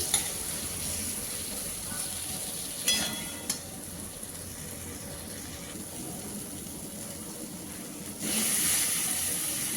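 Ginger, cumin and chilli paste frying in a pan, a soft continuous sizzle with a few brief stirring scrapes, growing a little louder near the end.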